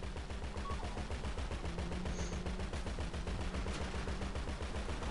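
Rapid bursts of automatic gunfire fired from inside a vehicle during a GTA Online shootout, loud and continuous, crackling shots stacking into a dense fusillade across the whole stretch.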